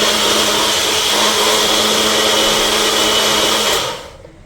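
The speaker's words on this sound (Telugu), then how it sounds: "ఇలాగే మిక్సీ పట్టేసుకుందాము." Tomatoes being blended for rasam in a kitchen mixer grinder, a loud, steady high-pitched motor whine running close by for about four seconds before quickly winding down, with no voices.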